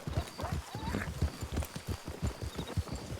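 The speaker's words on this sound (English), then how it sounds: "always keep in mind how loud your horses really are, because they're pretty loud." Horses' hooves clip-clop in a steady, busy rhythm as a posse rides in a video game, loud and close, with a brief whinny partway through.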